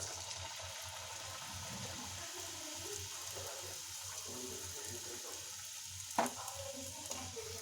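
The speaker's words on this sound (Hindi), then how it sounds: "अब हम इसमें एक एक करके स्प्रिंग रोल डालेंगे।" Spring rolls frying in hot oil give off a soft, steady sizzle and bubbling hiss, close but fairly quiet, with a brief clatter near the end.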